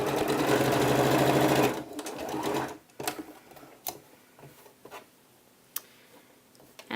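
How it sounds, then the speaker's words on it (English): A sewing machine stitches the front placket of a blouse in a loud steady burst for about two seconds, then stops, leaving scattered light clicks and fabric handling. "we'll now stitch our first front placket down."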